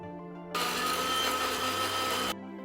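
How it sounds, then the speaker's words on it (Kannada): A kitchen mixer grinder whirs loudly and steadily for about two seconds, grinding whole spices for a homemade mutton biryani masala, then cuts off abruptly. "ಇವಾಗ ಇದನ್ನೆಲ್ಲ ಮಿಕ್ಸಿಗೆ ಹಾಕೊಳ್ಳೋಣ"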